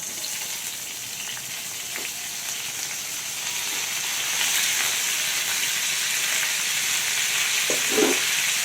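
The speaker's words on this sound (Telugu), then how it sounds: "ఇదే బాండీలో కొంచెం ఆయిల్ వేసుకొని మనం తీసుకున్నటువంటి ఉల్లిపాయలు, పచ్చిమిర్చి, కరివేపాకు, టమాటాలు, జీలకర్ర వేసుకోవాలండి" Onions, green chillies, curry leaves, tomatoes and cumin fry in oil in a kadai, a steady close hiss and sizzle that swells slightly partway through, with no talk.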